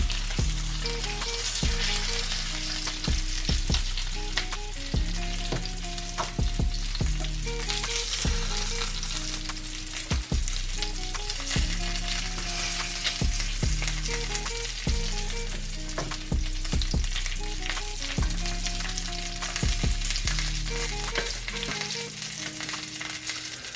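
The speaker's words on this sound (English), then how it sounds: "I like to cook them on the backside like this, sitting up." Lamb chops sizzle in a pan, fat side down, giving a steady loud frying hiss throughout, while background music plays with a regular beat and no talk.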